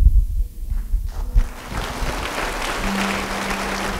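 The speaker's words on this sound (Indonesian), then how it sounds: "Siapa yang percaya nanti beri tepuk tangan ya kalau saya bilang begini." A church congregation bursts into applause during an Indonesian sermon, a dense, steady wash of clapping that rises after a few low thumps and carries on to the end, with no voices over it.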